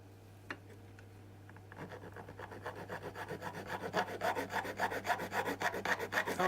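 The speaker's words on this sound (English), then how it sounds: "Let's give the file a go on this piece of aluminium sheet here," Hand file from a multi tool scraping across an aluminium sheet, starting after a quiet moment, then rapid rhythmic rasping strokes that grow louder and steadier, close up with no talking.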